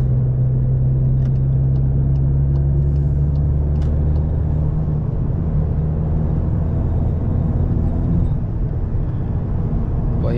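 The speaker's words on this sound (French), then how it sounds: "Le turbo fonctionne à merveille." A Cupra car with a turbo engine cruises in sixth gear, its engine and road noise forming a loud, steady low rumble from inside the cabin.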